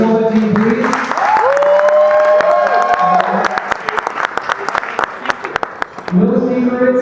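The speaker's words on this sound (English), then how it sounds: "So a round of applause for the Shobha team, please." An audience at a Sobha Realty business event applauds the Sobha team, dense clapping with sharp individual claps emerging as it thins out, with cheering voices and talk over it at the start and end.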